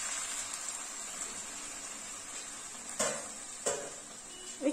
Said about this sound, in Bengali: এবার আমি সামান্য একটু জল দেব